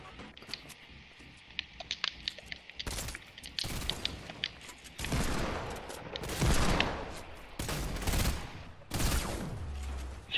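Gunfire in a shooter video game, with scattered light shots early, then heavier bursts and booming volleys that grow louder and closer toward the end, with no voices over them.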